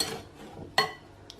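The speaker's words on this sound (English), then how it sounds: "we'll just whisk that together just to get a nice smooth chocolatey mixture." A wire whisk stirs a chocolate custard mixture in a pan. It makes faint metal scraping with one brief, bright clink against the side, close by and without talking.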